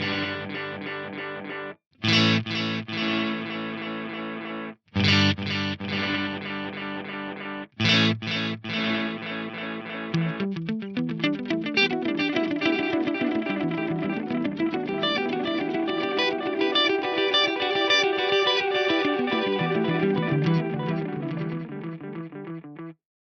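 Electric guitar run through an Axe-Fx III ten-tap delay, opening with three loud strummed chords, each chord followed by a gap. Dense rhythmic delay repeats then build into a sustained, shimmering wash that fades near the end.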